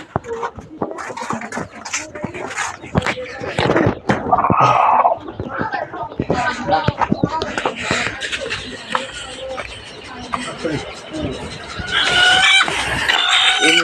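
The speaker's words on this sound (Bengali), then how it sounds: "এই যে সেই মুরগি ডিম পারছে, ডিম পারছে," A hen clucking loudly and repeatedly while laying an egg, close by, with bursts of excited cackling amid other fowl sounds, and a person talking at times over it.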